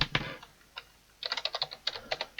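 Up close, someone types on a computer keyboard while setting up a Windows Vista virtual machine: a few isolated keystrokes, a pause, then a quick run of crisp clicks with no voice.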